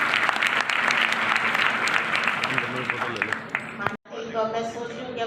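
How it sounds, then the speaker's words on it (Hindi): An audience claps loudly in dense, sustained applause that fills most of the stretch, then breaks off abruptly near the end before a quieter, different sound takes over. "आपके बाद जोरदार तालियां बजाएं"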